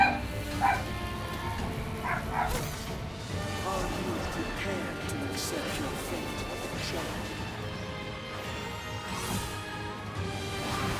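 A dog barks and yips in the video game Bayonetta Origins: Cereza and the Lost Demon, with several sharp barks amid crashing and whacking combat effects and busy game sounds.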